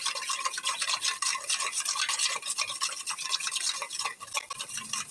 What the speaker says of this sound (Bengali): এবার সমস্ত কিছুকে এইভাবে খুব ভালো করে মিশিয়ে নিতে হবে।